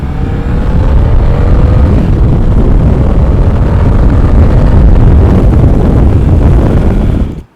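Motorcycle exhaust picked up by a pocket microphone through a mesh jacket while riding, a steady, muffled engine drone buried under heavy, constant wind buffeting that cuts off abruptly at the end.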